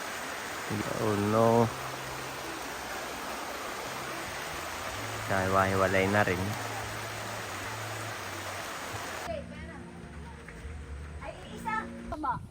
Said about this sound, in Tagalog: Lumakas po ang ulan.